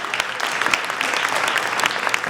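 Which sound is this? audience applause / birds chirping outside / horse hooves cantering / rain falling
audience applause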